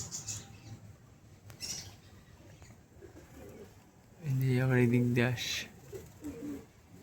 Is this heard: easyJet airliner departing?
no